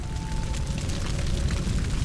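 A massive fiery blast from a minivan explosion in the video game 428: Shibuya Scramble, heard as a loud, sustained, rumbling roar that fills the whole moment without any voices.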